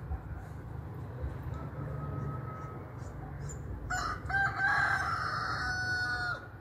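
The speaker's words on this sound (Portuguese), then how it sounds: "Vlog da madrugada. Com o galo cantando." A rooster crows once before dawn, fairly close and loud, rising over a steady low background rumble after a few seconds of quiet ambience.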